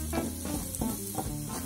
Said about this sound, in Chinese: 爆香蒜头